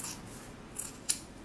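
Scissors cut around the back of a T-shirt collar, giving two or three quick, sharp snips over a quiet background with no talk.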